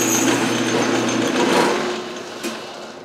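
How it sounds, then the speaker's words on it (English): A deburring tool works the burr on a metal part for a ball turning attachment, with a steady high whirring machine hum throughout and a brief scrape near the end. "Another thing for deburring right here."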